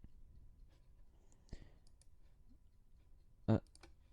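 A computer mouse gives a few sparse, quiet clicks, with a sharper, louder click near the end, in an otherwise quiet room.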